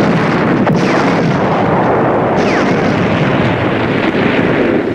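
Heavy German artillery fire strikes a beach, a dense, loud roar of blasts and rumbling with wind noise across the whole span, and no talking.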